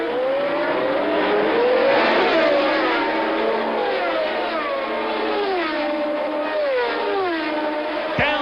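1979 Formula 1 cars, Ferraris and a Ligier, race through the Long Beach street circuit, loud, high-pitched engines screaming and shifting as several cars pass close by, with a commentator talking over them.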